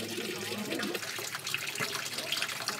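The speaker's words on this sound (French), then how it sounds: "c'est le lieu où coulent les ruisseaux. Et ça tombe bien, tu t'arrêtes à un endroit et puis là, tu entends que l'eau." Mountain streams run through a village in the Pyrenees of Béarn, near Oloron; the water flows in a steady, continuous broadband rush that stays close and even for the whole stretch, with no voices heard.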